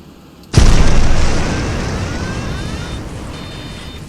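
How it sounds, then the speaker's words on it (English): A dramatized violent explosion tears through the fuselage of a Mexicana airliner in flight, bursting in suddenly after a quiet half second as one loud boom that decays into a long roaring rumble, with faint whistling tones lingering. "a violent explosion rips through the aircraft's fuselage."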